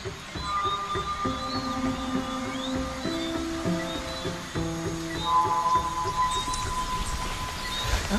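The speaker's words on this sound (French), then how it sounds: "Ah oui, avec la petite pluie." Light rain falls on the slopes near Montagne Pelée, a soft, even hiss that runs throughout, with a steady tonal hum underneath and no talking.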